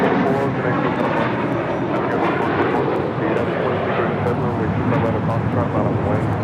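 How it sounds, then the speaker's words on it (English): A JetBlue Airbus A321 roars loudly and steadily as it takes off at LAX, a broad continuous engine rumble with a voice talking over it. "flight 424, taking off to JFK on an A321"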